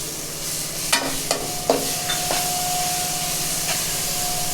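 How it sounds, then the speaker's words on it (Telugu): Coconut, garlic and ginger paste frying with masala and onions for mint chicken curry, a steady low sizzle broken by a few clinks and scrapes of a spoon against the pan, no talking. "ఈ మసాలాలు ఆనియన్స్ ఈ పేస్ట్ బాగా ఎర్రగా వేగాలండి పచ్చి వాసన పోయేంత వరకు"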